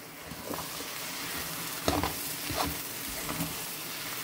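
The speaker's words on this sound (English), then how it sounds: "So all I'm going to add to the skillet is a little butter." A little butter sizzling in a skillet, a soft, even frying hiss heard close up, with a few louder stirring scrapes and no voices.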